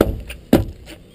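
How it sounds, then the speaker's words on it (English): Two heavy thuds of feet stomping on a hollow boat deck while catfishing in shallow water, the second following about half a second after the first, close and loud. "You ask why I'm stomping?"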